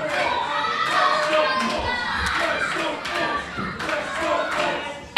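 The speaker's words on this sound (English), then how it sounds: "And the crowd singing, WrestleForce." A live wrestling crowd at a tag team title match chants in unison with rhythmic clapping, a dense, loud wall of many voices rising and falling in repeated phrases throughout.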